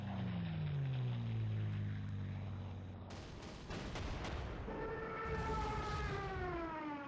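A Stuka dive bomber in the World War II strategy game Panzer Corps, heard as a faint wailing, siren-like engine tone that slides in pitch, mixed with bursts of gunfire and rumbling explosions.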